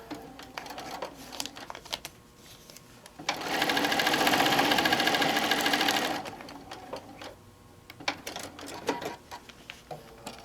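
A sewing machine stitches a paper-pieced quilt block, a continuous fast mechanical whirr of about three seconds in the middle, framed by quieter handling of fabric and paper.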